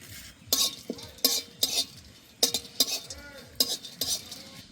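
Dry red chillies, cardamom and cinnamon tossed in a hot pan, with sharp bursts of stirring scrapes and clinks repeating every half second or so over a low background crackle, close by.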